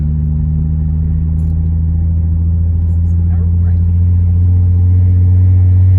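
A Nissan 350Z with a manual gearbox hums at low, steady revs, rising slightly near the end, heard from inside the car with people talking over the deep engine drone.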